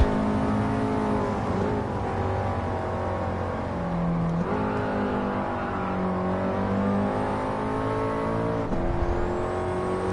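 Alpine race car engine in the Gran Turismo 7 video game, holding a steady, loud droning hum with gliding pitch shifts as it revs and shifts continuously for the full stretch.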